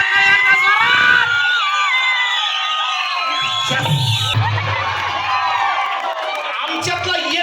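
A large crowd at a Bhim Jayanti celebration cheers and whoops loudly, a dense roar of shouting voices with brief lulls and fresh bursts of yelling.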